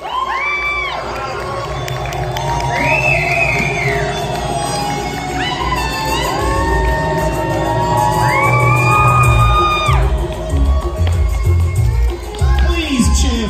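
A convention crowd at a steampunk fashion show cheers and whoops loudly for the models, with long rising shouts and yells stacking up, sharp bangs near the end, and an announcer talking under the noise.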